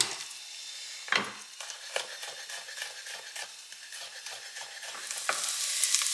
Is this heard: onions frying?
yes